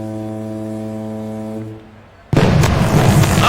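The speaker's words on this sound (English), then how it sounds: "That firework sounded louder than normal." A single loud firework boom bursts at a baseball game, a sudden broadband blast after a steady horn-like drone fades out, followed by sustained crowd-like rumble.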